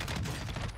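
Dense rapid gunfire from a Call of Duty Warzone Rebirth match, a loud continuous burst of crackling shots with no pauses, filling the short moment.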